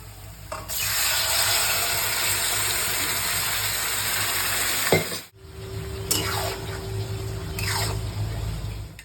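Goat liver curry with onion is stirred in a hot pan, giving steady sizzling and frying with scraping spoon strokes, a brief pause, then more stirring and sizzle up close.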